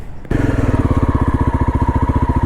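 A motorcycle engine runs in flood water on a Himachal Pradesh road, its loud, close thumping exhaust pulsing in a fast steady rhythm after a brief quiet start.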